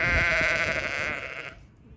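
A sheep bleats in a long wavering cry that fades out, close and fairly loud over faint outdoor background, in English farm pasture with lambs.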